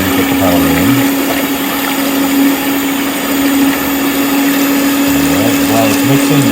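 An electric mixer whirs steadily while blending liquid cupcake ingredients, a constant close motor hum and churning, with voices talking briefly over it at the start and end.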